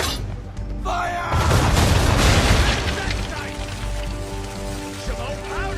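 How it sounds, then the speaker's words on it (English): A ship's cannon broadside in Assassin's Creed 3 erupts as a loud, rolling roar of booms and crackling debris, then settles into rumbling, splashing aftermath with voices and music underneath. "Now, aim all guns at her bow and do as much damage as possible."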